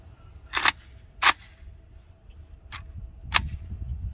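An AK rifle fires rusty, water-logged steel-case ammunition, four sharp reports spaced about a second apart, the first two loudest, over low background rumble.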